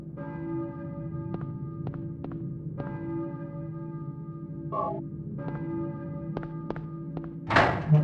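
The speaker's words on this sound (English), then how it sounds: "church bell, I think. But who's ringing it?" Church bell tolls in a Resident Evil 1 randomizer game ring out repeatedly over a steady low hum, with a louder rustling burst near the end.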